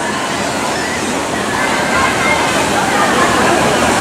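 Water from a slide splashes steadily into outdoor thermal pools, a loud continuous rushing and sloshing wash that swells slightly toward the end.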